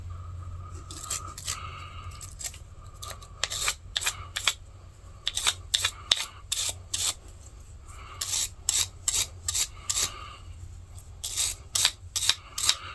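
Brass bristle brush scrubbing solid brass saw screws on a vintage saw, a series of short, crisp scraping strokes in irregular bursts, close and fairly quiet, with no talking.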